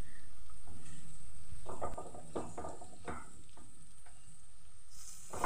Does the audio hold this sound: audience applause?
no